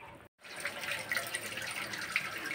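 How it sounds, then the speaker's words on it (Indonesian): Water draining out of a catfish tank, a steady close splashing rush after a brief dropout at the start, with no talking. "Ini saya kuras sudah sampai 1 menit, sudah hampir habis airnya."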